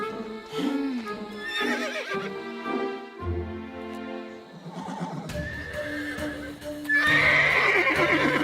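An animated cartoon horse gives a few loud whinnying neighs, rising and falling, mixed with clip-clop hoofbeats and a musical score, near and prominent.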